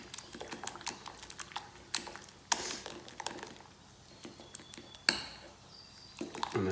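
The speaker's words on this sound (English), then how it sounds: "whisk up the egg, because this is quite loose. Try and mix it into my starter a bit" Egg being whisked and mixed into a loose sourdough starter for sticky buns, heard as quiet, irregular clicking and scraping taps against a bowl, with a few sharper knocks scattered throughout.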